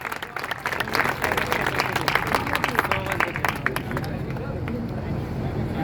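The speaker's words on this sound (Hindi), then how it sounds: "जोरदार तालियां एक बार।" Crowd claps heartily at a plot lucky-draw gathering, applause swelling after a quieter start and holding steady, mixed with chatter and babble from people nearby.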